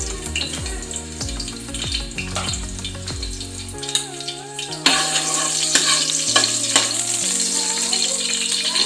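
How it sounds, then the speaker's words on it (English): Green chili slices hit hot oil in a pan, giving a bright, steady sizzle that swells louder partway through, mixed with scraping and clinks plus a low droning hum under it, with no voices. "Once it is heated, add 4 slices of green chilies."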